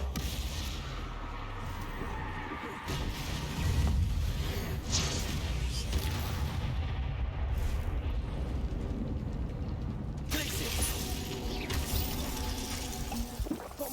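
Bombarda and Confringo blasting spells in Hogwarts Legacy, heavy rumbling explosions with crackling debris that swell and subside over several seconds, loud and dense, no talk.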